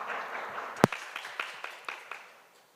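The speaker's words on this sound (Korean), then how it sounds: "큰 박수로 닝지님을 맞이해 주시기 바랍니다." Sparse, fairly faint clapping from a conference audience at a Northeast Asia forum session in Jeju welcomes the session chair, with one sharp close clap standing out among scattered softer claps that trail off.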